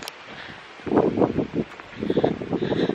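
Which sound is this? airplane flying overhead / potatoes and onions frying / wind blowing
wind blowing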